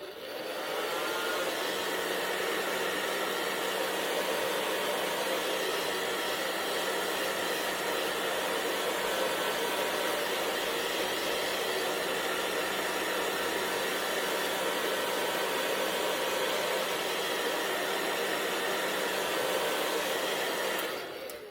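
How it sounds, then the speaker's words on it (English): A blow dryer runs steadily at close range for about twenty seconds while drying chalk paint, a loud continuous airy roar that starts and stops cleanly with no voices. "I'm just going to take a blow dryer and hit it and dry it"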